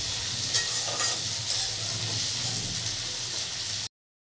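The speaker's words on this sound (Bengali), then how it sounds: "বেশ নেড়ে চেড়ে ভালো করে লাল করে ভেজে নিতে হবে।" Bitter gourd pieces frying in hot oil, a steady close sizzle with occasional stirring scrapes, heard alone without talk.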